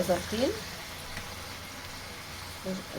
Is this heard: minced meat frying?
yes